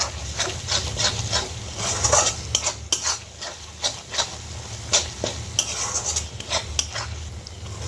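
A spoon stirs chicken do pyaza masala with cashew paste in a pan over low heat, giving soft repeated scraping strokes over a gentle oily sizzle, close and unhurried.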